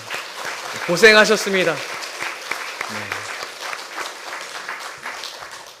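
Congregation applause during a Korean Methodist Sunday worship service, a burst of many hands clapping that carries on steadily under a man's brief spoken words, then slowly thins out.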